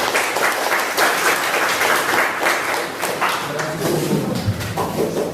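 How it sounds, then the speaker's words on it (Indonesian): An audience at a calligraphy training session at a senior high school in Aceh Selatan applauds a religious teacher, steady close clapping throughout with some scattered louder claps and a faint voice near the end. "Tepuk tangan untuk Ustaz."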